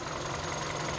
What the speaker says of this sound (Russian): Работает двигатель у нас ровно, несмотря на то, что автомобиль долго стоял.